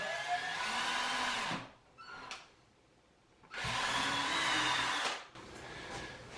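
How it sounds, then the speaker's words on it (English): A power drill whines in two bursts while pre-drilling a hole for mounting a lighted mirror, each burst a couple of seconds long, with a short quiet gap and a brief rev between them. "drill the bottom hole."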